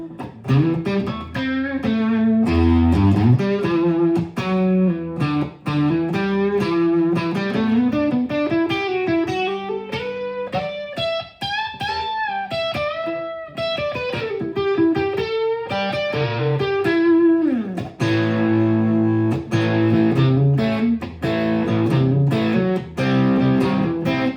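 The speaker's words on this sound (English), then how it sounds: "Here's a little distortion." A distorted electric guitar, a Gibson Les Paul Modern, plays a continuous riff with rising and falling runs, loud and gritty throughout.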